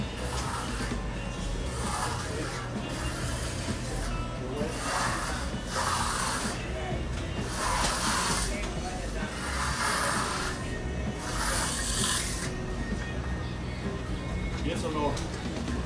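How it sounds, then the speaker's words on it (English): Wet concrete being troweled smooth by hand while a spray bottle mists the surface, giving repeated short spray hisses every couple of seconds over a steady scraping, rumbling background. "Use a spray bottle while you're troweling the concrete."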